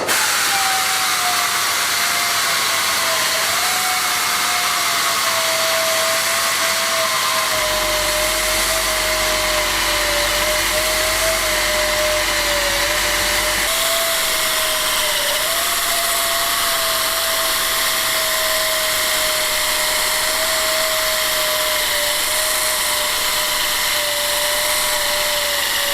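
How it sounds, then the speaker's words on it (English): A steady, loud air-powered grinder wet-grinds reclaimed marble tiles during a rural house restoration, its high whining tone holding throughout with slight pitch dips as it bears into the stone, plus a constant airy hiss and a low rumble midway. "it produces like a paste, which is the marble as it grinds it off"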